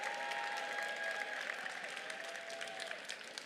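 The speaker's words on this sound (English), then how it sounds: "let's give them a round of applause" Steady applause from a crowd at a FIRST Robotics Competition event, dense clapping with a couple of faint whistles, tapering slightly toward the end.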